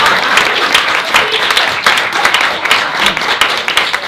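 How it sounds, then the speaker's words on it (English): A crowd applauds at a university alumni panel, with dense, steady clapping from many hands that stays loud and unbroken for the full four seconds. "I'll applaud myself"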